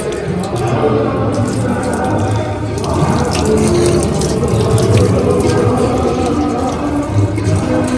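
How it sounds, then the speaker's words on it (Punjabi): Water from a well-fed tap runs steadily at a shrine, a continuous splashing flow with faint drips, close and fairly loud, under a low murmur of voices. "ਇਸੇ ਖੂਹ ਦਾ ਜਲ ਇਧਰੋਂ ਟੂਟੀ ਲਗਾ ਕੇ ਤੇ ਇੱਥੇ ਲਗਾ ਆਇਆ"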